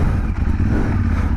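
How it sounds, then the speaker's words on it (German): A motorcycle in German city traffic nearly stalls, its engine chugging low and uneven with a rough clattery rumble, very close and loud, no talking. "da wäre mir die Maschine fast abgesoffen"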